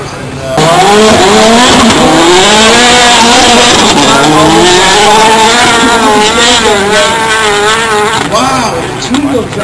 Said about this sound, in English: that car sounds deep